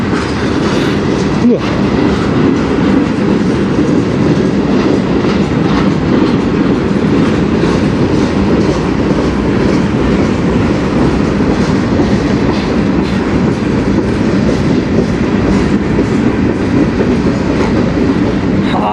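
A CN freight train rolls past on the Strathroy Subdivision, a loud, steady rumble with continuous wheel clatter filling the whole stretch, close by and unbroken, with a brief spoken word near the start.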